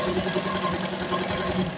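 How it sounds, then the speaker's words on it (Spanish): Heavy all-metal zigzag sewing machine, built for straight and zigzag stitching, runs steadily up close with a continuous mechanical whir and rapid needle rhythm throughout. "Aquí tenemos esta zigzagadora completamente metálica."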